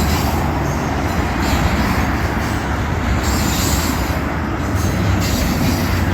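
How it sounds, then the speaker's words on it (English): A Union Pacific freight train rumbles past close by, with a loud, continuous roar of wagons and wheels on the rails and occasional squeals throughout. "That has the look of the UP trash train"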